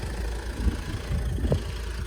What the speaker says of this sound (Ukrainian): Мотор працює ідеально